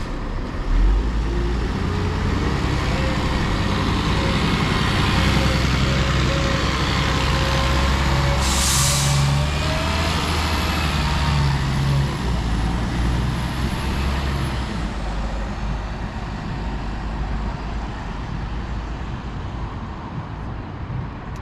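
A First Berkshire route 8 bus pulls away from Staines bus station toward Slough. A heavy diesel engine rumbles loudly and steadily close by, with a brief hiss of air brakes partway through.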